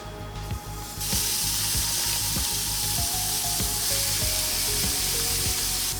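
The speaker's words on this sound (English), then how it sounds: "Now let's put our grill to high, and let's put our first burger." Burger patty sizzling loudly on a grill turned to high, a steady close frying hiss with a rhythmic mechanical clicking running underneath throughout, no voices.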